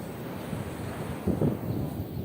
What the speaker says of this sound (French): il y a la mer